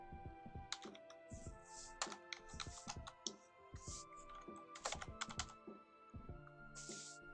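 Computer keyboard typing while entering text into an Excel spreadsheet, quiet irregular bursts of key clicks close by, with no talking.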